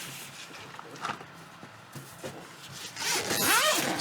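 Zipper running around a Tabletop Tyrant carry case, a few short scratchy tugs followed by a longer, louder continuous zip pull close to the microphone.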